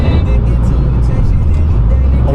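BMW M850 driving fast on a twisty forest road in Germany, steady loud low engine drone with road rumble throughout, heard from inside the car.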